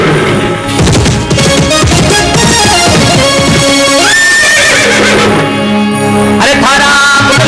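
Horse whinnies ring out over dense, loud music and sound effects in a dramatized tale about Shani Maharaj, with possible hoof clatter buried in the continuous backing.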